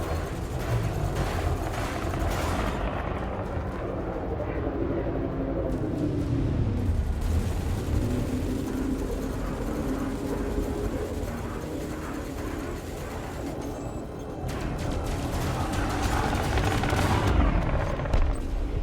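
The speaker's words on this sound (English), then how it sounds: "Kaboom. Destroyed. Scratch one more Viper MK3." Weapons fire and a Viper MK3 ship exploding during space combat in a video game, a loud, dense, sustained barrage of blasts and rumbling bursts running continuously with no pause.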